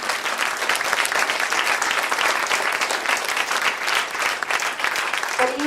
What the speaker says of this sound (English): So let's have a big round of applause for all of this.